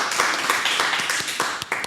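A smaller audience at an Indonesian talk show claps in a looser, more individual patter, separate hand claps audible within a brief, moderately loud burst of applause.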